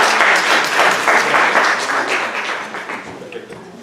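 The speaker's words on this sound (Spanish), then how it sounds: "Recibamos al doctor Gamaliel con un fuerte aplauso para agradecerle" A hospital audience at a general session applauds to welcome a doctor before his talk, steady, fairly loud clapping that slowly tapers off, with some voices mixed in.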